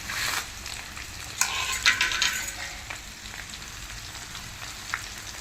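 Crushed garlic and dried red chilies bubble and sizzle in a pan for a coriander chutney, with a crackling fry and occasional louder stirring scrapes that fade into a softer simmer.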